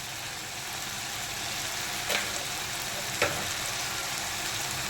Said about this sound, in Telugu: బాగా ఫ్రై అయిపోవాలి